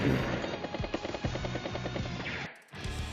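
A battlecopter unit from the video game Advance Wars: Days of Ruin sounds off with a steady rhythmic rotor chatter in dense game audio, briefly cutting out near the end before resuming.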